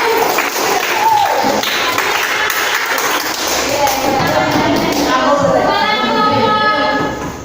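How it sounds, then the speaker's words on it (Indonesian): Classroom of students clapping for a group of classmates, a dense burst of many hands with thuds and children's voices mixed in, fairly loud and close throughout. "Mana tepuk tangannya untuk kelompok satu?"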